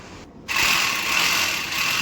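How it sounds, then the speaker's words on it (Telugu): A power drill bores a hole in a wall to fix a clip for an LPG gas pipe run from a kitchen to a balcony: a steady, close whirring grind starts after a brief gap and runs on without talk. "నేను ఇక్కడ మళ్ళీ కదలకుండా క్లిప్ పెట్టడం కొరకు డ్రిల్ వేసి"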